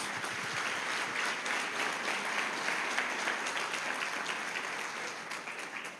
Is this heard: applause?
yes